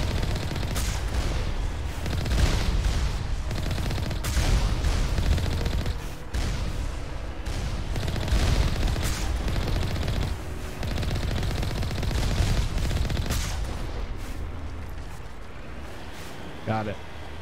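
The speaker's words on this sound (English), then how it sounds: "So many explosions." Dense explosions and rapid gunfire rattle continuously through a combat scene in the video game Mass Effect 1 Legendary Edition, loud and layered with heavy thumps, while a player talks over the action.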